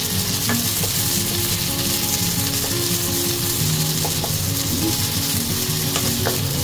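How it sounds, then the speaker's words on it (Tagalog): Garlic, onion and ginger sauté in a pan with a loud, dense, continuous sizzle close up, broken by a few light stirring clinks, with no talk. "Halo natin yung ating sibuyas. Saka luya."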